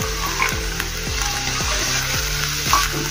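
Onion, tomato and pigeon peas sizzle steadily in a hot pan, a continuous loud frying hiss with small stirring knocks throughout and no voices.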